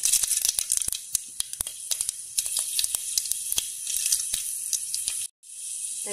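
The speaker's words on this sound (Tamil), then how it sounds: "வெந்தயம் சேர்த்து பொரிஞ்சு வருது." Fenugreek seeds spluttering in hot oil after mustard seeds go into the pan, a steady close hiss with many sharp popping crackles, briefly cutting out near the end before the sizzle resumes.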